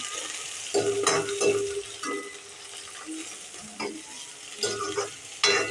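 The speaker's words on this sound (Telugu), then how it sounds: "మంచిగా అన్నీ ఫ్రై అయ్యేటట్టు మంచిగా కలుపుకొని మంచిగా ఫ్రై చేసుకోవాలి" Chicken curry with coriander and mint leaves fries and is stirred in a pan for a hotel-style gravy, giving a quiet sizzle broken by several short scraping stir bursts.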